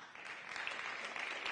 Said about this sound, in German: Und wir freuen uns deswegen jetzt genauso und mit donnerndem Applaus auf Dr. Benjamin Schiller und Anna Wacker.